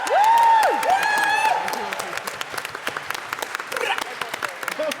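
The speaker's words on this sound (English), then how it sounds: "if you think that Dr. Robotnik's evil librarian was more to your taste, give us a clap." A theatre crowd at a gaming convention claps to vote for a contestant, with cheering and a whooping voice at the start before the applause settles into brisk, steady clapping.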